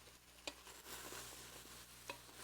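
Mushrooms and onions sweating gently in a pan, a faint soft sizzle with a couple of light utensil taps, heard alone without talk.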